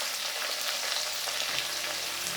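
Sliced onions and cabbage frying in a pan, giving a steady, soft hiss of sizzling that holds even throughout with no voices.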